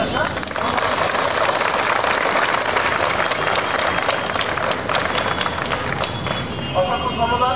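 Big round of applause from an audience at a fire fighting demonstration, dense and steady throughout, fading toward the end with voices mixed in.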